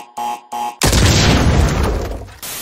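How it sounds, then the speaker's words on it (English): A loud boom bursts out after two short synthetic tones, sounding like a Windows XP error parody explosion that roars briefly and then decays into a rumbling tail before cutting off. "Who knows, my computer's going to detonate again."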